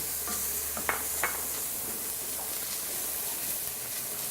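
Celery tipped into a pan of onions sweating over low heat, giving a soft, steady sizzle and hiss with a couple of brief stirring scrapes near the start, quiet and close with no talk.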